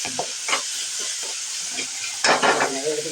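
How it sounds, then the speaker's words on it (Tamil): Onions sautéing in a pan for buttermilk curry (mor kuzhambu), a steady sizzle and hiss with stirring scrapes, growing louder and busier near the end, close and without talk. "இந்த உப்பு போடவும் இந்த வெங்காயம் இதெல்லாம் நல்லா வணங்கிட்டு இருக்குங்களா"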